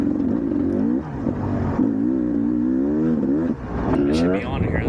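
Racing car engine in the TORCS driving game, revved in short blips that rise and fall in pitch several times, steady and close, with someone talking over it.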